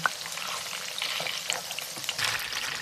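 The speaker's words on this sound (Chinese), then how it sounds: "翻个面继续再煎一下。" Meat-stuffed tofu turned over and frying in oil for Hakka stuffed tofu, a close steady sizzle with scattered pops and light spatula scrapes.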